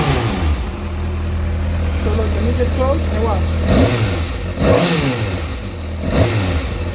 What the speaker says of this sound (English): Now let's give it some revs and see if there's any delays.